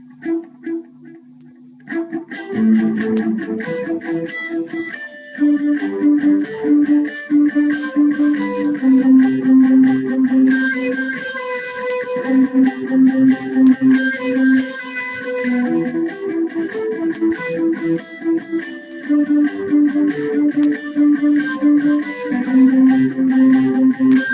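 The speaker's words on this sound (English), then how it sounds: "So the whole thing together with a little bit of delay. The delay is a crotchet delay." Lead electric guitar played through an analog crotchet delay with light modulation and a few repeats, a sustained melodic line ringing out loud and alone, notes trailing into soft echoes.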